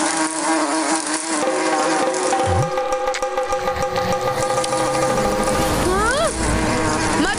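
An angry swarm of honeybees buzzes loudly and continuously near a cattle pasture, a thick, wavering drone layered with sliding effects and voices.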